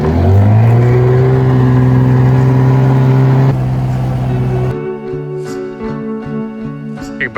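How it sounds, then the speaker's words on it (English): Sailboat dinghy outboard engine running rough after a hard start, a loud steady droning hum for several seconds that then drops off, leaving a quieter idle with faint knocks. "our dinghy engine has not been running very well, but we managed to get it started."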